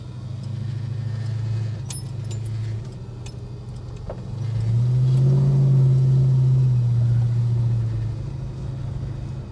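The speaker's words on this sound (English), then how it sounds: "Yeah, I've got the idle way too low." An old Holden HK's engine idles too low, almost stalling, a close steady low rumble that swells louder midway and then settles back, with a faint rattle over it.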